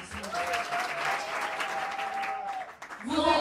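An audience at the Liberté Plus twelfth anniversary celebration applauds with continuous dense clapping, while a voice speaks over it before the applause thins toward the end.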